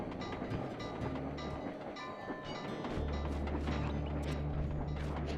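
A train in the video game Sly 2: Band of Thieves rolls along the tracks with a steady, loud rumble and a low mechanical drone, rhythmic clatter showing through, and no voices.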